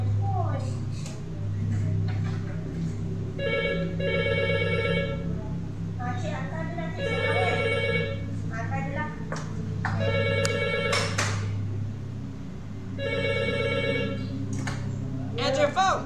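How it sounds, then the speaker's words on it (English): Several telephones ringing unanswered in a police station, repeated bursts of electronic bell rings in regular pairs with gaps, close and clear over a low background hum, with someone speaking briefly between rings. "Answer your phone!"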